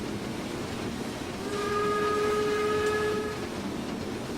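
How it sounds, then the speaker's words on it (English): In Train Simulator 2016 on the Mannheim–Karlsruhe route with a BR86 steam locomotive, a train passes and sounds a steady, two-second steam whistle over a constant rail rumble and hiss. "Oh, another train coming."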